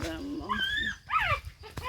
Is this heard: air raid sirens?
no